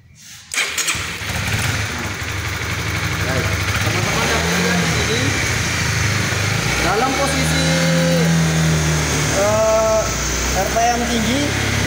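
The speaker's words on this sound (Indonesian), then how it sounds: "Kita hidupkan sepeda motor." Honda CB150R motorcycle engine cranking to life and settling into a steady idle with a few rising revs, close and loud, while someone talks over it.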